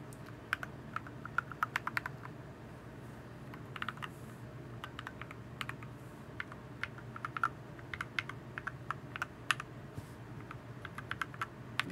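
Fast, continuous typing on a Boardsource Lulu mechanical keyboard, with a close, crisp stream of key clacks in irregular bursts over a low steady hum, no talk.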